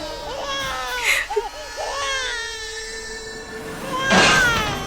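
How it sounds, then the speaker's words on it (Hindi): A baby girl's crying, a thin wailing that rises and falls in several bursts, with a louder cry near the end, set against a steady background hum, heard in an Indian television drama. "हमारी बच्ची रो रही है, आवाज आ रही है।"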